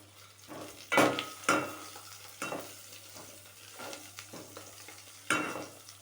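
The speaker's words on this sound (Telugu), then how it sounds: "పలావ్ దినుసులు కూడా వేగాలి మంచిగా" Pulao spices frying in a pan, with intermittent stirring scrapes and sizzle bursts standing out over a low, steady hiss; close and moderately loud, no talking.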